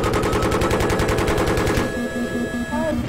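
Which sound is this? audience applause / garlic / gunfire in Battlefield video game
gunfire in Battlefield video game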